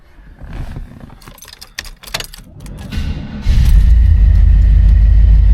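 A 1981 Corvette inside the cabin: keys jingle and rattle in the ignition, then the engine cranks and catches at about three and a half seconds, settling into a loud, steady low idle rumble that continues to the end.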